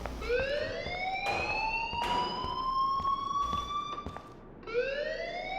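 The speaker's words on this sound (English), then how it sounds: "please turn off that alarm since that's your job" Rising, wailing electronic alarm in the video game Life is Strange, repeating long upward-sweeping tones that cycle loudly and continuously, restarting after a short break near the end.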